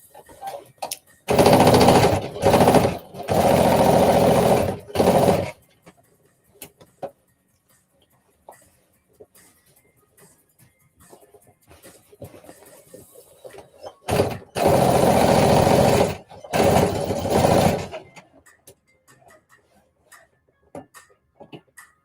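A sewing machine stitching thick fabric for a flared dress with added side panels: loud rapid mechanical stitching runs in several bursts, with quiet handling gaps and a second cluster of bursts later.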